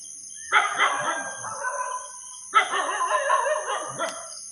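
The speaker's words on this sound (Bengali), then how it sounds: "কুকুরগুলো প্রচুর চিল্লায় এখানে" A dog barks in two short bursts of rough, repeated barks a couple of seconds apart, moderately close, over a faint steady high whine.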